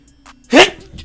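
A single short, sharp sneeze bursts out against a quiet room background at a football watch party, brief and fairly loud.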